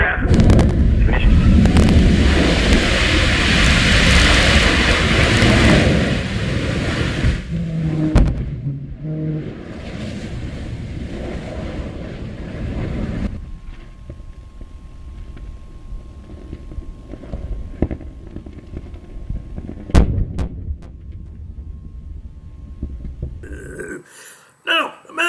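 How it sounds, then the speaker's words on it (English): NASA's Morpheus lander vehicle crashing and burning: a loud, sustained rocket roar gives way to rumbling fire, scattered bangs and crackling that gradually thin out, ending in a few abrupt bursts. "crash and burn just like the Morpheus vehicle does"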